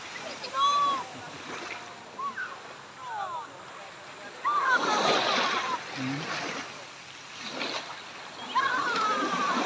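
Feet splash and slosh through clear, shallow sea water along a beach in uneven bursts, some loud and close, with people talking and calling out between the steps.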